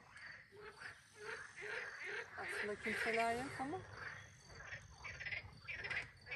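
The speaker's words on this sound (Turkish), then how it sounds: "Kurbağadan başka bir şey bağırmıyor." Frogs croak at a hidden lake in a forest at night, a dense rhythmic chorus of calls repeating continuously under quiet conversation between people nearby.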